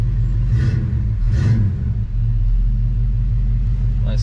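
1966 Ford Fairlane GTA convertible with a 390 engine running, a deep steady rumble close by with a couple of short swells, while people talk.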